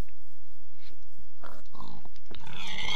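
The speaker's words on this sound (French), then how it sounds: "Cochon!" A pig oinks and grunts in a hardcore survival video game, a few short close snorts over a steady game background.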